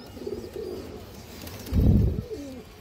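Farm pigeons of mixed breeds, including a Jabra Bagha female, give low rolling coos near at hand, with one louder, fuller burst in the middle and no speech.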